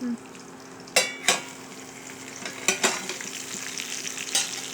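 Bitter gourd coated with turmeric and salt sizzles steadily in a pan over a low flame, with a continuous frying hiss broken by a few sharp clicks and scrapes as it is stirred.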